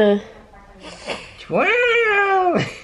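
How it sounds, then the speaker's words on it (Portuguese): A cat gives a long, loud, drawn-out meow, almost a yowl, close by, after a short earlier cry, with people talking around it. "Esse é um gato."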